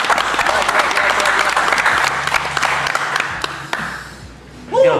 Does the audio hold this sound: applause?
yes